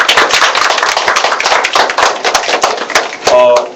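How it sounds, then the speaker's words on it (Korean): Church congregation applauding at a Sunday worship service in Korea, a dense, continuous crackle of many hands clapping at close range, tailing off as a voice begins near the end. "박수해주세요."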